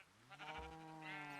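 A single sheep bleat from Minecraft, a quiet wavering nasal cry lasting about a second and a half, heard alone.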